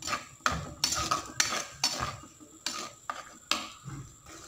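Masala paste for bhel poori being sautéed in a pan with salt, a metal spoon scraping and clinking against the pan in repeated strokes, close and fairly loud, with no talking.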